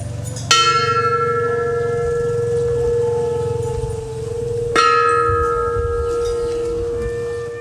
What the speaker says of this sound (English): there is a bell at the entrance. If you ring the bell, you will receive a blessing.